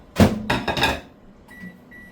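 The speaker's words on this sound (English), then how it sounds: "I'm gonna throw this in the microwave" Microwave oven being loaded to heat butter: a sharp door clunk and a few quick handling knocks, followed by the faint hum and high beeps of the oven starting, close and with no speech.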